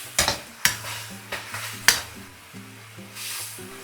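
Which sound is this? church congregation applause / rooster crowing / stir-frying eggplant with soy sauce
stir-frying eggplant with soy sauce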